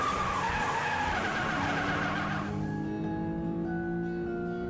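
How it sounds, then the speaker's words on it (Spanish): A race car in a coloring video game skids with a long, loud tire screech that fades into a steady engine hum and tonal game sounds. "Ahora, la Doctora Mawil tiene su propio coche de carreras"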